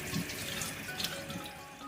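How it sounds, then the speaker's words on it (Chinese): Tap water runs over a split pork hock as it is rinsed in a sink, a steady close splash and trickle with small shifts as the meat is turned. "然后清洗干净。"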